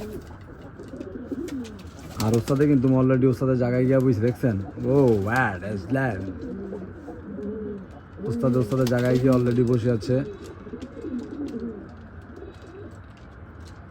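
Pigeons in a loft coo with repeated deep, throaty rolling calls close by, several bursts rising and falling over the clip, while someone talks over and between them.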